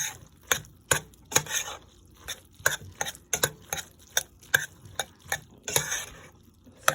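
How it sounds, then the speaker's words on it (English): Eggs are stirred into hot pasta for mac and cheese. A spoon scrapes and clacks against the pot in irregular, distinct knocks, close up and alone. "Now, you want to stir that up when you put your eggs in."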